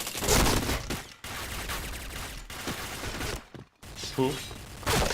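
MP5 submachine gun fire in the shooter Point Blank, rapid bursts of shots repeating over several seconds, fairly faint with brief gaps between volleys.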